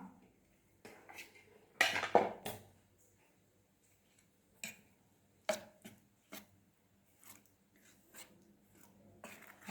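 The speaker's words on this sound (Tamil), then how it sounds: "இப்போ நான் மாவை வந்து நல்லா கலந்து விட்டுக்கலாம்" Semolina and rice flour batter, with ghee-roasted coconut added, being mixed in a bowl: sparse clinks and scrapes of a utensil against the bowl, a louder burst of clattering early on, then irregular soft knocks with quiet gaps.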